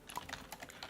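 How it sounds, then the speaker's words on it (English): Quick, uneven keystrokes clatter on a computer keyboard, close and fairly soft, in a brief burst of rapid clicks with no voices over them. "I think someone's having trouble typing."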